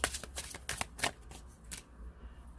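A deck of tarot cards is shuffled by hand, giving a quick series of crisp riffling bursts that thin out toward the end. The sound is close and quiet.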